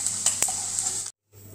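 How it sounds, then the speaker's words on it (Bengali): Small fish fry in hot oil in a pan with a steady, close, hissing sizzle and a couple of light clinks, before the sound cuts off abruptly and returns faintly. "এইভাবে আমি বাকি মাছগুলো ভেজে নিচ্ছি।"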